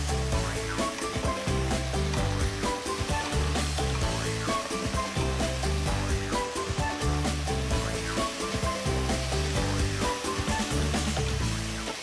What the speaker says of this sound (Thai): เราก็ปรุงรสค่ะด้วยซีอิ๊วขาวกับน้ำมันหอยนะคะผัดให้เข้ากันค่ะ